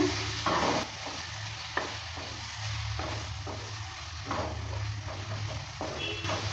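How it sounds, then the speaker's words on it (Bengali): Spice mixture for a light foli fish curry is stirred in a pan right after the lid comes off, giving a steady low sizzle with intermittent scraping strokes of the spoon, close and alone without talk. "ঢাকনাটা তুলে নেওয়ার পর নেড়ে নিচ্ছে"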